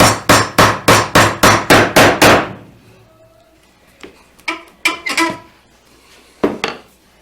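A rapid burst of about eight sharp hammer blows on a chisel squaring a mortise in wood for a desk, then a pause and a few scattered, lighter knocks and taps on wood.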